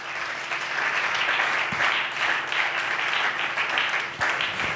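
A church congregation at a Sunday service breaks into sustained applause, dense and steady clapping from many hands filling the room for several seconds.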